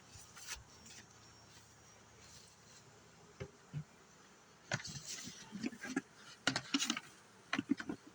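Honey bees buzzing around an opened deep hive box, a low steady hum broken by louder close buzzes as individual bees pass near, with no talking.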